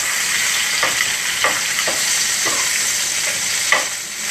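Potatoes sizzle and fry steadily in a pan, a loud continuous crackle with a few brief stirring scrapes and no talking.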